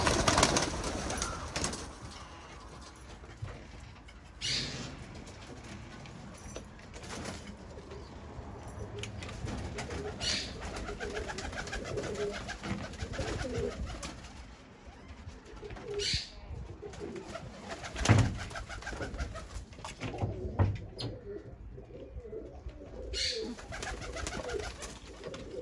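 Pigeons coo softly and repeatedly nearby while sunning themselves, low throaty calls continuing over steady outdoor background noise.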